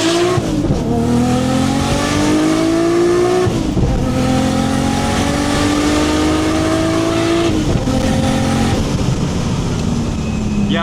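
A loud Nissan Skyline R32 engine revs up and down through repeated gear changes as the car drives hard testing its brakes, with road and wind noise throughout.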